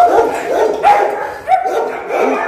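A dog barks and yelps repeatedly at close range, loud excited barks coming in quick bursts.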